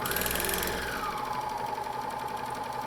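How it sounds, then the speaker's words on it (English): A sewing machine stitches the side seams of a tee shirt with a half-inch seam allowance, giving a steady, close, rapid mechanical whirr that runs unbroken for about three seconds. "So now we're going to sew up the side seams with a 1/2 inch seam allowance."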